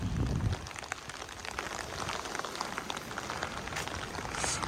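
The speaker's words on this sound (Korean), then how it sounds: "아, 은근 비가 많이 오네." Rain falls steadily during a walk near Gwangchigi Beach on Jeju, with a dense, continuous patter and hiss close by and no one talking.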